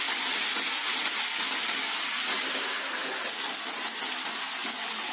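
Spinach cooking in a pan for a savory tart with ground meat and goat cheese: a steady, close sizzling hiss of steam and frying that holds unbroken throughout, with no talking.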